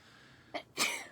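A single sharp sneeze up close, with a brief intake just before it, against a quiet background.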